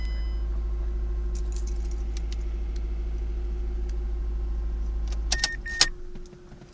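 A Mazda 2 with 94,445 km idles steadily with a constant low hum, then a few sharp clicks and jingles near the end as the engine note drops away.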